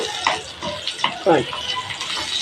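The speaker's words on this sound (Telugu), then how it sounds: "ఇలా ఫ్రై అవుతుంది చూడండి ఫ్రై అయినాయి" Curry leaves with cumin frying in hot oil, a close bubbling sizzle with spattering bursts, heard under a speaking voice.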